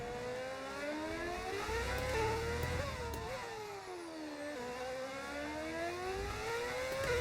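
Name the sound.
modded race car engines in a racing video game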